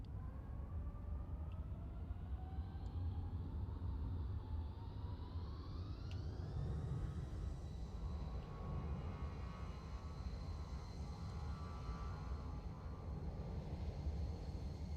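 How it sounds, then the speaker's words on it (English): An arriving Swiss Air A220 in Microsoft Flight Simulator 2024 produces a faint, distant jet whine that rises steadily in pitch over a constant low rumble, then holds level, with no talking. "There's an arrival. There's a Swiss Air A220."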